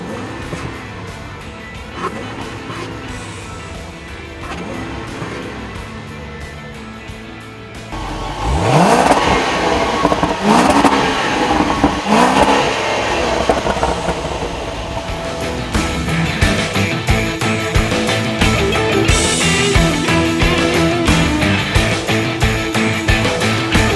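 A supercharged 2014 Range Rover pulls hard under acceleration, its engine rising loudly after a quieter start and sustaining a strong, continuous roar, apparently recorded from inside the vehicle during an off-road drive in rain and mud.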